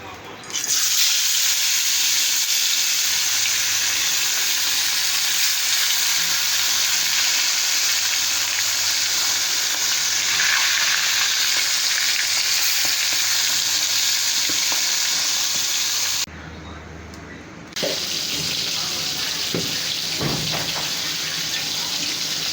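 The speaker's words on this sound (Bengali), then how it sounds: "এখন হচ্ছে আমি মাছগুলো তেলের মধ্যে দিই" Tilapia fish frying in hot oil, a steady loud sizzle that carries on almost without a break, briefly muffled once before it resumes, with a few clinks of a utensil near the end.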